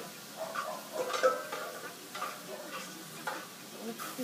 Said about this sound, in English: Stirring while we're adding it.